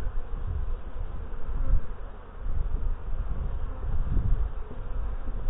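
Honey bees buzz steadily around an open hive during a late-September final inspection, a dense, continuous drone close by with gentle swells in loudness and no talking.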